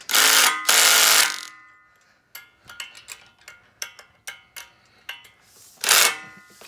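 A 3/8 inch drive impact wrench fastens bolts on a backhoe dolly for a John Deere 2025R: two loud hammering bursts, a run of sharp clicks and ratcheting taps, then another short hammering burst, close up with no talking.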